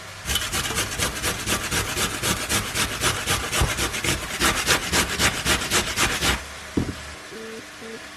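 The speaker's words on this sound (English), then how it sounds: "And then I'm going to grate it." Beets are grated by hand for vegetarian borscht, a fast, steady run of close, loud rasping strokes that stops abruptly, followed by a few soft knocks.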